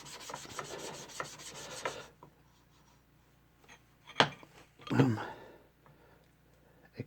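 A blade rubbed on a Thuringian slate hone with slurry gives a scratchy rasp, followed by two short separate strokes, while someone talks at the start.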